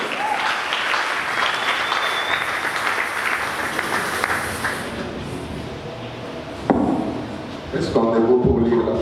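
A church congregation in Goma applauds to welcome a reverend, dense clapping from many people that fades out before a few louder bursts and voices near the end.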